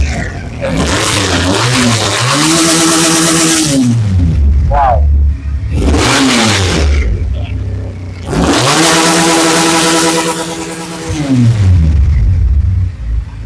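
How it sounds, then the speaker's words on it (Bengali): A Pilder v4 motorbike engine repeatedly revving up and settling back, loud and close, in three strong surges with pauses between. "ভাইয়া বাইক স্টার্ট দিয়েছে"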